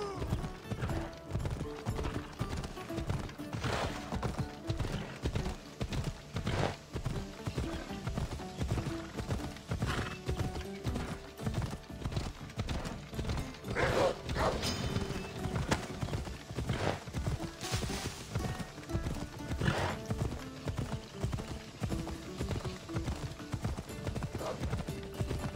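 A horse gallops in Assassin's Creed Odyssey, hooves pounding in a fast, steady clip-clop rhythm throughout, loud and close, with occasional neighs and faint game sounds mixed in.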